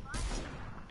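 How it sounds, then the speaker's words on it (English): A single infantry rifle shot in a video game, loud and close, a sharp crack followed by a sustained booming echo that fills the short moment. "Infantry rifle."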